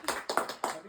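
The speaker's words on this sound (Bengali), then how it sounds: "হাততালি পাপাকে দিয়ে দাও।" Several sharp claps at a young girl's fifth birthday, a quick irregular burst of hand claps close by, fairly quiet, with no talking over them.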